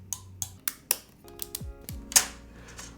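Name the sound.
typing on a custom mechanical keyboard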